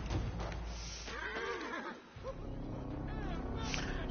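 A horse whinnies in a rising and falling neigh outdoors at moderate distance, heard over background voices and noise from a rural setting.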